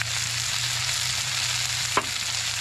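Cooking oil frying in a pan while making chicken afretada, a steady close sizzle and crackle holding level throughout, broken by one short clink near the end.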